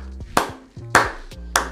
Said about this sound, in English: can we just take a moment to give all the housemates a round of applause?